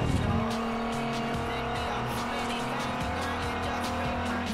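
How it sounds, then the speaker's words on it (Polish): A Nissan GT-R racing in Forza Horizon holds a steady high engine drone with layered harmonics, gear changes and tire noise, loud and continuous, with someone speaking over it. "Ależ pięknie się pędzi tym GTR-kiem."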